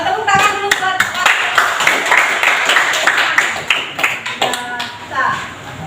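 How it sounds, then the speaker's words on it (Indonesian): A classroom of students claps hands together in a steady, lively burst of applause that runs the whole time and slowly tapers near the end, with scattered sharper claps standing out. "Tepuk tangan dulu buat"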